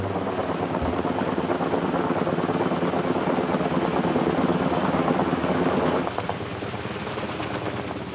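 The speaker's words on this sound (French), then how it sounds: "Le lendemain matin, l'hélicoptère arrive à l'heure. C'est un appareil puissant qu'on a dû faire venir de Zurich." A powerful helicopter flown in from Zurich lifts a 1.5 tonne larch tree, its loud, steady rotor and engine roar filling the air close by and easing slightly near the end.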